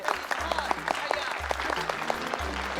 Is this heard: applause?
yes